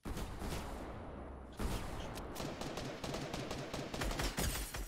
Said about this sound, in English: My shotgun hits hard!